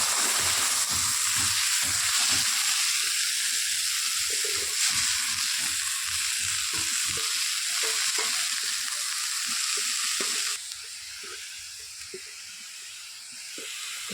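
Leafy greens tipped into a pan of oil with fried garlic give a loud, dense hissing sizzle, with stirring scrapes throughout, easing to a quieter sizzle toward the end.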